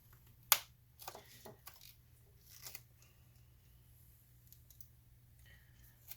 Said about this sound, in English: Just peel this whole plastic lining.